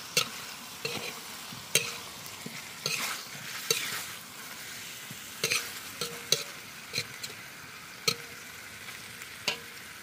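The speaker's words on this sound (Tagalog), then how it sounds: "Luto po tayo ng ginisang adobo." Adobo sautés in a pan at a riverside camp in Indang, Cavite, a soft steady sizzle broken by repeated spoon scrapes and knocks against the pan, fairly quiet with no talking.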